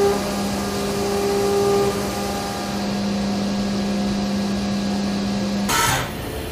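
A CNC mill with a fourth rotary axis machines a 1.5-inch diameter cylindrical part, producing a steady, loud mechanical whine with sustained tonal hums that drops off abruptly near the end with a brief burst of noise.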